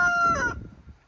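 Chickens in a pen give a brief, bright, fairly close call that trails off into soft, low clucking and scratchy shuffling.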